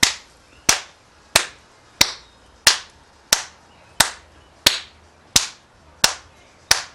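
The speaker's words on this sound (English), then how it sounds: "And she can clap very hard" A woman claps her hands hard in an evenly spaced series of about eleven sharp, loud smacks, each ringing out briefly before the next, with nothing else heard.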